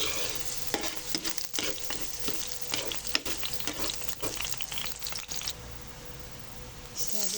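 Garlic sautéing in hot oil for a home-cooked tilapia sinigang, with a steady sizzle broken by repeated stirring scrapes of the utensil against the pan, close and moderately loud throughout.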